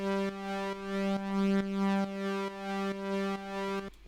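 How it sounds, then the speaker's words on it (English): A sustained synth chord pumps rhythmically from an LFO plugin trance effect, its volume ducking and swelling in a steady repeating pulse, about nine swells, alone and fairly quiet. "it basically gives it a trance pumping sound"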